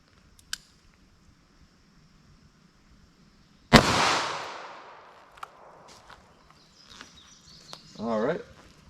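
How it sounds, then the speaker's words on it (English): A .38 Special lead round-nose bullet is fired into clear ballistics gel with a single sharp, loud gunshot crack and a decaying rumble, amid quiet outdoor ambience, small clicks and brief speech afterward. "first up we'll run our 38 Special lead round nose into our plain clear ballistics"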